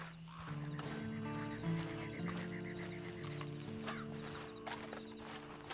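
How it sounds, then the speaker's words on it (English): A horse in the Red Dead Redemption 2 video game gives soft hoof clops and faint snorts close by, under a steady tonal music bed with small clicks and mechanical rattles. "Then you better get on this horse."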